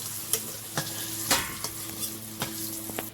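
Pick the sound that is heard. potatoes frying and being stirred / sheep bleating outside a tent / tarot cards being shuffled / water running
potatoes frying and being stirred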